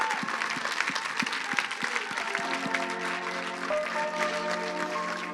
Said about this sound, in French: Je voudrais qu'on les applaudisse encore une fois, s'il vous plaît.